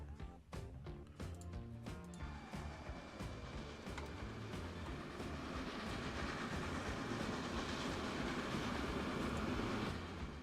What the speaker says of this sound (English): I have a train that's bringing coal